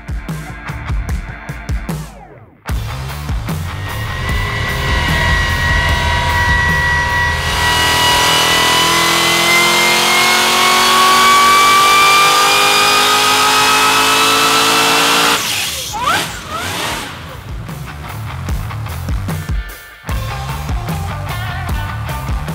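A supercharged 427 LS engine making over 1,000 horsepower revs hard on a dyno, a loud, sustained roar climbing in pitch for about twelve seconds, with shorter mechanical bursts before and after.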